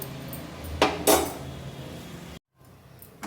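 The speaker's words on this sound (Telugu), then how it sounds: "కర్రీ ప్రిపేర్ చేసుకోవడానికి ఇలాంటి గిన్నె ఒకటి పెట్టుకొని" A metal cooking pot is set down in a kitchen for making spicy mutton curry, giving two close, bright clanks in quick succession, then quiet handling noise.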